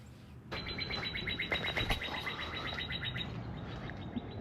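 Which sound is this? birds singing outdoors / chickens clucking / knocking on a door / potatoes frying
birds singing outdoors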